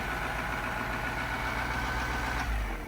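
An 1980s Ford engine running close by, a steady, loud mechanical drone with a rough, knocking pulse throughout and a slight dip at the end.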